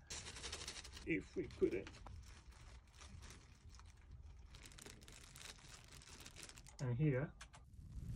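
A plastic bag crinkled close to a microphone to imitate crackling fire, giving irregular papery crackles and rustles in a few short bursts, with a person speaking briefly between them.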